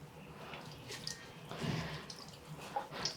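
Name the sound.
water dripping after squeezing out a wet vacuum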